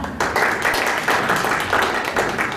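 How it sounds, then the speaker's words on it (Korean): Audience clapping to welcome a speaker at a lecture on Silicon Valley's industry ecosystem, a steady, moderately close round of applause rising in waves for a couple of seconds, with no talking. "박수 부탁드립니다"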